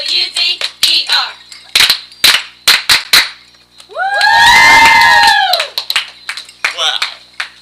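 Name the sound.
crowd cheering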